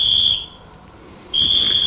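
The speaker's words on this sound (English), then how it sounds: "Then came a series of bugle calls, whistles." Bugle calls and whistles through the night during the Korean War: a shrill, sustained steady whistle tone sounds loudly, breaks off briefly, then resumes over a rumbling background.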